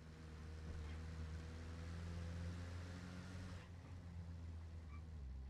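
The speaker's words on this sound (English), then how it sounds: "It's just an idling Humvee." A military Humvee idles in a video game, a steady low engine rumble running without a break and holding the same level throughout.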